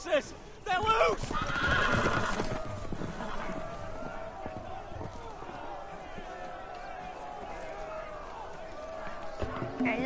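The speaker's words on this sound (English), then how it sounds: "The horses! They're loose!" Horses whinny loudly at the start, then hooves clatter and gallop over a busy, rumbling background of movement and shouting that continues throughout, in the Game of Thrones video game.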